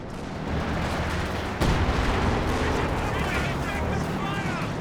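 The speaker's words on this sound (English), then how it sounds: "Ooh, howitzer connecting with the flak half track." Howitzer artillery fire in the video game Company of Heroes 2 hits a flak half track: a sudden boom rises out of a dense, continuous battle din of explosions and gunfire, under commentary.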